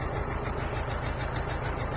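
A tractor engine runs steadily to keep its battery charged while powering an inverter for a water pump, giving a continuous low rumble throughout at a moderate distance, with no talk.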